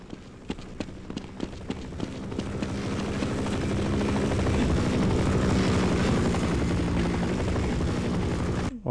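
A helicopter in the video game Half-Life thumps in with rapid rotor beats that build into a loud, steady, close roar, nearly drowning any other sound.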